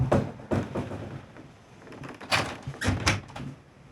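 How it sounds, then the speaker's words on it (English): A wooden cabin door being opened, with scattered clunks and creaks, then two louder knocks or latch bangs near the end, heard close and without voices. "Oh, door."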